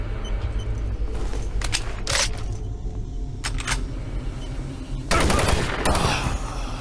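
Doom 3 with the Absolute HD mod: sharp gunshots crack in quick clusters, followed by a heavier, louder burst of fire near the end over a constant low rumble of game ambience.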